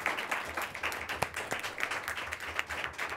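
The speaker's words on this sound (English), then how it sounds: "thank my speakers, please, with one more round of applause" A seated audience at a policy panel on Chinese solar power investment gives the speakers a round of applause, a moderate, fairly distant patter of hand claps with a few sharper individual claps standing out.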